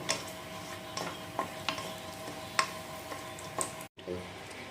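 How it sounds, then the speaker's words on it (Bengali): Whole cardamom, cinnamon, cloves and dry chillies lightly frying in a pan for a dhaba-style paneer curry, a soft steady sizzle broken by scattered clicks and taps of a spoon stirring against the pan. "তার মধ্যে প্রথমে দিয়ে নিচ্ছি এলাচ, দারচিনি, লবঙ্গ আর শুকনো লঙ্কা। আমি এটা হালকা ফ্রাই করে নেব।"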